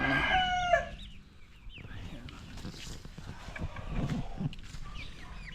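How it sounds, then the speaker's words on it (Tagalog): Backyard chickens cluck and a rooster crows near the start, followed by softer clucking and scratching at close range while someone talks over the flock. "Yan po yung mga chicken natin."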